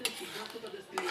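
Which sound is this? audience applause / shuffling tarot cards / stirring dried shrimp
stirring dried shrimp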